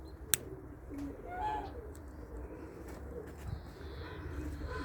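Soft racing pigeon coos drift in from a distance over a steady outdoor hum, with a sharp click near the start and faint chirps scattered throughout.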